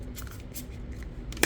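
Tarot cards riffle and slide as a deck of heavy card stock is shuffled, soft quick papery bursts up close, ending with a sharp snap.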